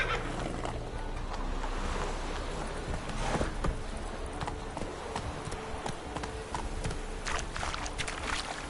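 Horse hooves clip-clop steadily in The Witcher III: Hearts of Stone, a continuous walking rhythm near and moderately loud over ambient game sounds, with faint background noise throughout.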